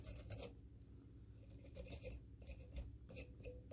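A toothbrush scrubs seal fur on a fly being tied, a close, steady rasping brush of short repeated strokes with no talk.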